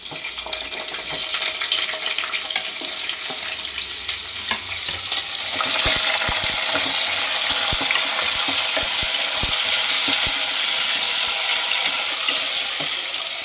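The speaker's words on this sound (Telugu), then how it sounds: "ఓకే మంచిగా బ్రౌన్ కలర్ వచ్చేలాగా ఫ్రై చేసుకోండి ఆనియన్స్" Onions and green chillies frying in oil with masala for a home-made goat head curry, a steady sizzle that grows louder midway, with sharp spoon-on-pan scrapes and clicks from stirring; no talking.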